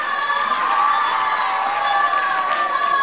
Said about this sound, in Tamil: ஒரு பெரிய கைதட்டு கொடுத்து நீங்க பாராட்டலாம்